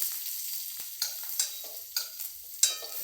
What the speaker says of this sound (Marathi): आता हिरवी मिरची तर तर तर तर उडते